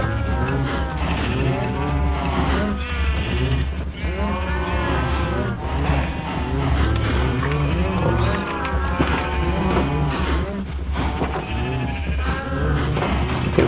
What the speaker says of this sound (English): Good lord, the quantity of cows.